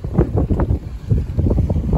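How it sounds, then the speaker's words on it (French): A sailboat moving under sail at about 2.5 knots in calm sea, its engine raised, gives a steady wash of water and wind buffeting against the microphone with soft rhythmic sloshing, fairly close and without voices. "Et nous avançons à la voile."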